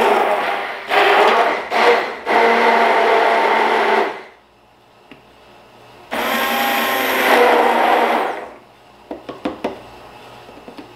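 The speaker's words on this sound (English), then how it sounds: "I'm just going to go ahead and use my little immersion blender here" An immersion blender whirs in two steady bursts of several seconds each, mashing ice cream mixture, separated by a pause, followed by a few light knocks.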